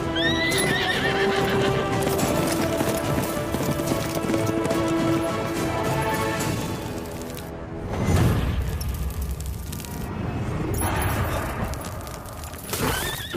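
A horse whinnies and neighs repeatedly over steady clip-clopping hooves, loud and close, with a brief thudding burst midway and no talk.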